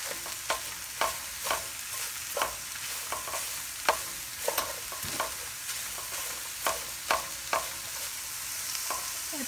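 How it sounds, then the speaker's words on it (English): A big bowl of diced garden vegetables stir-frying in oil, giving a continuous hiss broken by regular clacking utensil strokes, close up and free of speech. "this whole bowl full of veggies that are going to stir fry and kind of cook down a little bit"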